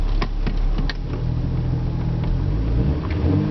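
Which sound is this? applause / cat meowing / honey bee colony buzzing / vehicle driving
vehicle driving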